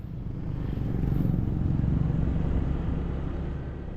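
A vehicle engine hums steadily along a winding mountain road among cliffs near Ha Giang, Vietnam, a continuous low drone that stays loud and close, with no voices.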